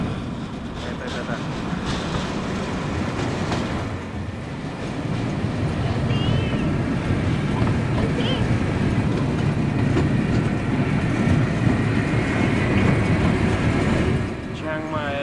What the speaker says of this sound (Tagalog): Mabilis ang train.